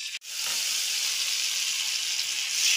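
A tomato, cashew and raisin paste hits a hot pan with a sharp start, then sizzles and fries in a steady, loud, close hiss for a few seconds with no talking.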